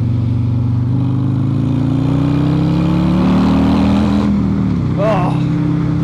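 Harley-Davidson motorcycle fitted with a 135 ci crate engine pulls out to overtake on an open road, its loud rumbling exhaust rising steadily in pitch as it accelerates, with wind roar throughout.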